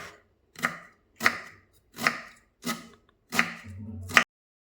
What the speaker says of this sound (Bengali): এখন আমি বাঁধাকপিটা কেটে নেব এবার আমি চিকন চিকন করে পলে নেব